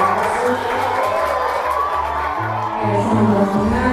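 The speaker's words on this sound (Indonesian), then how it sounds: "Kasih tepuk tangan." An audience applauds and cheers to welcome a talk show host at an alumni talk event, a steady wash of clapping and voices with low, stepping music tones underneath throughout.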